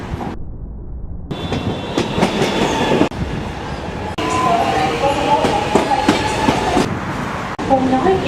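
A metro train moves through Richmond Station platform with loud rumbling and clickety-clack wheel noise throughout, close by, with some brief squeals.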